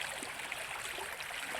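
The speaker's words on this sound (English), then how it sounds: "rapid flowing water in the video. That's because now this is my driveway" Rapid floodwater rushing across a flooded home driveway and front yard, a steady broadband wash of flowing water, continuous and fairly even throughout, with no voices.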